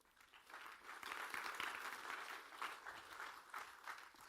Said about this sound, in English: Why don't you give Tashmia a big round of applause.